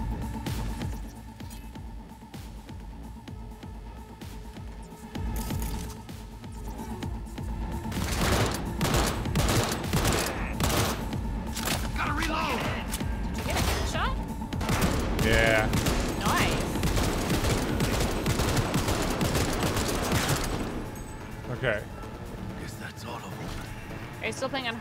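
Enemy gunfire in the Cyberpunk 2077 video game, rapid bursts of game shots rattling densely through the middle of the clip under steady background score, with a couple of players talking over the action.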